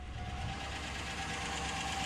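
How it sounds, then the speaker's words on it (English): A car engine idles with a steady low rumble and faint ticking knock, constant and close, with no talking. "And sit here and listen to the engine."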